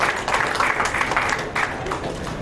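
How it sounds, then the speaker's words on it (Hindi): A crowd applauds steadily at an awards ceremony, dense clapping sustained at even strength for a couple of seconds. "तालियों से हम अभिनंदन करते हैं।"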